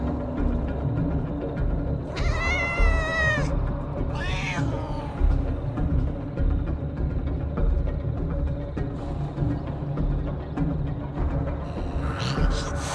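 A cat meows several times in the Copycat video game, distinct rising and wavering calls over a low droning game soundscape, with another meow near the end.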